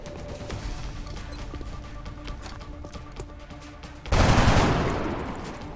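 Gunfire from the video game XCOM: Enemy Within rings out in a loud sudden burst after a stretch of quieter, busy game ambience, then slowly tails away.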